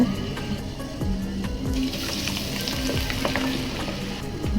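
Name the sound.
olives added to hot oil, sizzling while making pickle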